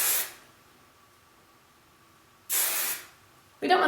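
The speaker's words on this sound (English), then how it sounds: "we're going to take a little hairspray" Hairspray from an aerosol can misted onto a loose, messy hairstyle in three short hissing bursts, the last one cut off, with quiet pauses between them.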